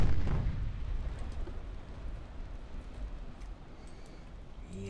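Naval 3-inch guns firing in the warship game Ultimate Admiral Dreadnoughts, a heavy boom at the start trailing into a continuous low rumbling roar of distant gunfire and explosions.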